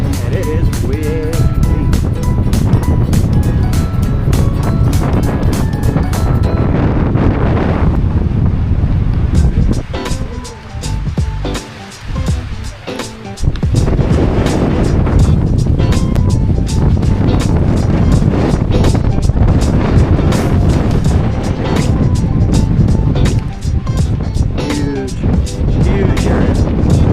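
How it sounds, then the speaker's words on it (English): Steady wind roars and buffets the microphone at a campground in North Cascades National Park, a loud, continuous low rumble that barely lets up, with a brief dip midway. "and it is windy."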